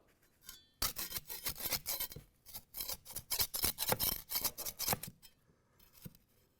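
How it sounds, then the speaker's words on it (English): Trowel chipping a hardened concrete leak-stopper plug off a masonry wall: a close, rapid run of gritty scraping and chipping strokes that stops abruptly, followed by a few lighter scrapes. "take your trowel and chip off the exterior plug"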